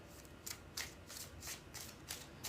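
Tarot cards are shuffled in quick, soft riffling bursts, several in a row with a regular rhythm, close and quiet with no talk.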